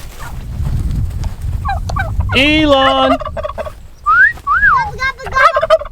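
Turkeys on a farm let out loud warbling gobbles close by, several rapid rattling calls in a row with quieter bird whistles between, and a person briefly calls out once over them.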